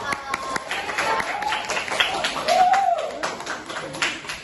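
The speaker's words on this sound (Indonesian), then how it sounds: "Bisa tepuk tangan untuk kelompok." Brief applause from a small classroom group for students who have just presented, with sharp, scattered claps early on under a speaking voice, fading as the talk continues.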